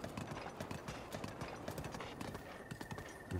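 A horse galloping in Breath of the Wild: rapid, steady clip-clop hoofbeats close up, continuous through the stretch with a low game background beneath.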